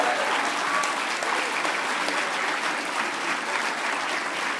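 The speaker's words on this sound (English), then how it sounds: "So give him a round of applause." Audience at a hacker conference closing ceremony applauding, a dense, steady roar of many hands clapping close and loud throughout, with no other sound standing out.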